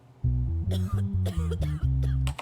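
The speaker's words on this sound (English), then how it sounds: "if these sons of guns don't stop coughing in my courtroom" Several sharp coughs break out in a courtroom in a judge simulation game, over a steady stepped droning melody.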